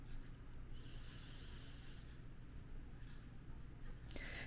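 A pen or marker scrapes across a board in short strokes, soft and close, with faint breathing and shuffling beneath it and no talk.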